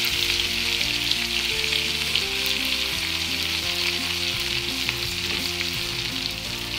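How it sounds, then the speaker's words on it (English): Garlic paste sizzles steadily in a pan of melted fat while being stirred, a loud continuous frying hiss with no talk over it. "Now we're going to add the garlic paste. Then just stir it."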